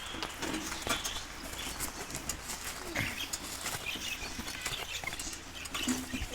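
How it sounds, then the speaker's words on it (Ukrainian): Faint birds cooing and chirping in an open outdoor space on a farm in Denmark, with scattered soft calls and occasional wing flutters over a low background hum. "Там якісь пташки."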